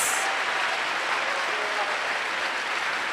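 Church congregation at a women's worship service applauding, a dense, steady wash of many hands clapping together at moderate loudness, sustained without pause and with no clear talk over it.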